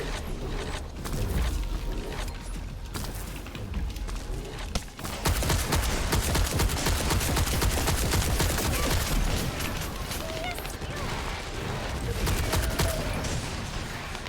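Sustained rapid gunfire from a sniper-style weapon in the looter-shooter game The First Descendant, dense and continuous over the whole stretch with a brief dip midway, loud and close in a busy combat mix.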